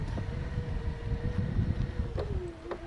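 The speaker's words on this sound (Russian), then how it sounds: "Сильный ветер, не знаю, там задувает" Strong spring wind on a rough road rumbles and buffets steadily, with a faint vehicle engine hum running underneath throughout.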